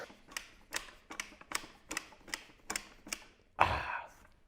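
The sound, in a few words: adjustable dumbbell locking click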